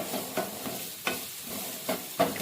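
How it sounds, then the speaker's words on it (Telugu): Green chillies and turmeric frying in a pan, a soft continuous sizzle with about five rhythmic stirring scrapes, close up, with no voices. "ఇప్పుడు ఈ పచ్చిమిర్చి పసుపు కూడా వేసి ఇలాగే కొంచెం పచ్చిమిర్చి మగ్గే వరకు ఇలా కలియపెడుతూ ఉందాము"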